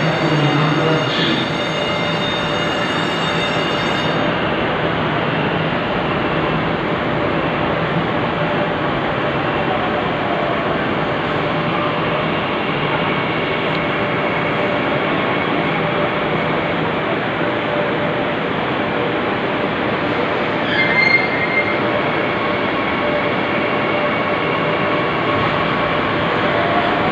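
A Saudi railway train carries Hajj pilgrims from Mina to Jamarat, with a loud, continuous rumble and rolling roar throughout, heard close up from the station or on board.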